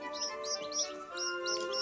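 A baby chick in a children's puppet story chirps in a quick series of bright, high cheeps, about six short calls over roughly two seconds, set against steady background music.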